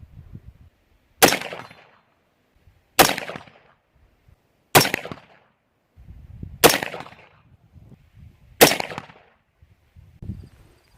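Five sharp 5.56 rifle shots crack out at evenly spaced intervals, each followed by a brief ringing decay as rounds strike steel gong targets about 100 yards downrange, with quiet gaps between.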